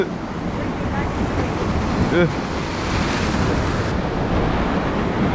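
Ocean surf washes onto an Australian shoreline as a continuous broad roar, mixed with gusty wind noise on the microphone, while a brief voice cuts in partway through.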